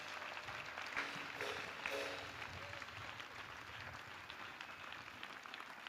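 An audience at a gathering applauds in a steady, continuous wash of clapping, distant and fairly quiet, holding at an even level for the whole stretch.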